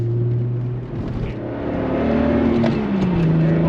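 A VW Corrado with a built motor, Schimmel built head and 268 cams revs hard past 4,000 RPM, a loud, close, steady engine drone with a rising then falling pitch and no talk over it.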